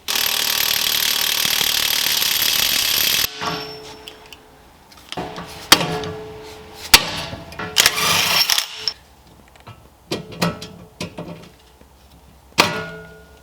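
Loose impact-wrench or tool bursts and metallic clanks on a BMW E36 wheel bearing nut, starting with a steady loud whir for about three seconds, then scattered sharp knocks and rattles close by.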